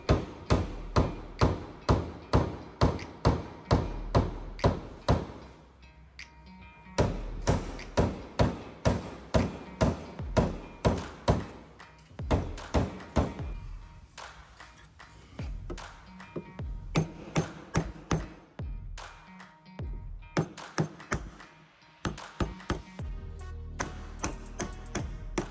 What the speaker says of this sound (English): Now I'm doing my second round of knockdown work. I'm using two hammers.